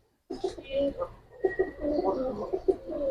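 Pigeons coo repeatedly close by, soft throaty rolling calls in overlapping bursts, with a faint voice in the background.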